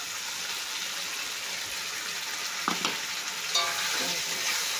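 Boiled hog plums tipped into fish frying in oil and stirred, with a steady loud sizzle, a couple of clunks as they drop in, and the frying swelling afterward.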